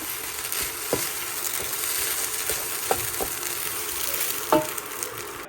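Bengali egg bhuna cooking in a pan, a steady close sizzle of frying with occasional scraping stirs and light clicks of a spatula, no voices.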